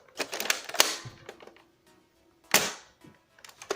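A dark blue, older pre-N-Strike Nerf blaster firing foam darts: two sharp, close pops about two seconds apart, each followed by faint mechanical clicks and handling noise.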